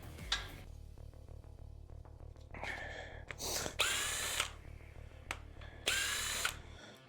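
A power tool drives sockets and bolts during drag racing car prep, with several short bursts of whirring and rattling, some louder spurts near the end, close up with a low steady hum underneath.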